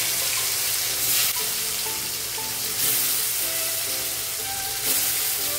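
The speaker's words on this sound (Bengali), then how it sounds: "এখন আমি ওল আর আলুটা কষিয়ে নেব।" Pieces of elephant yam and potato fry in about two spoons of hot oil, a loud, steady close-up sizzle with periodic bursts and scraping as they are stirred around the pan.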